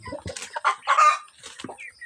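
Free-range chickens around 45 days old feed on leaves and mixed feed, giving close clucks and short calls in irregular bursts with brief gaps between them.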